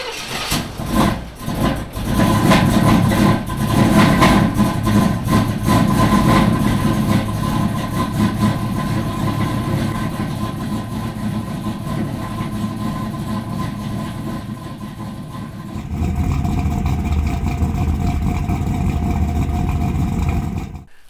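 A small-block Chevrolet Z28 Camaro engine idling, a steady low rumbling drone that holds at the same level throughout, with a brief change in tone partway through and no talking.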